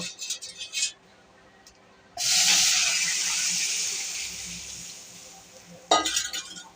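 After a few clinks, a sudden loud hiss bursts up as water meets a hot pan of fried fish, slowly fading before metallic clatter returns.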